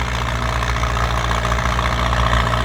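An excavator engine runs loud and near while pushing soil in second gear, a heavy steady diesel rumble with rhythmic knocking pulses throughout, no talk.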